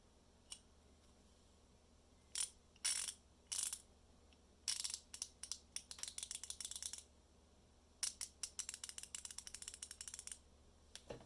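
Husky 144-position quick-release ratchet from a 1/4 in. and 3/8 in. drive mechanics tool set, clicking close up in short bursts of fine, rapid ticks, with quiet gaps between the turns.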